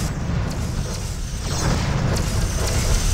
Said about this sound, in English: Simulated enemy ship has been destroyed.